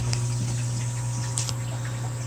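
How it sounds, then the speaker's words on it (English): Water steadily filling a 75-gallon aquarium during a water change, a continuous rushing flow with a strong low hum beneath it, heard alone at close range. "So I'm gonna do a pretty decent sized water change in that tank."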